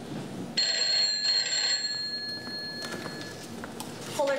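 A telephone rings on stage during a theatre performance set in a café, its bright repeating electronic tone running through most of the moment at moderate level, with faint room noise beneath.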